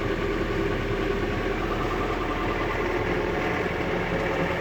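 The engine of a John Deere 326E skid loader runs steadily with a continuous, even mechanical drone and no clear changes in pitch or level.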